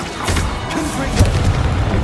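Fiery Confringo spell blast in the video game Hogwarts Legacy: a low booming burst with a rumbling tail, followed by a second heavier thump, with voices mixed in.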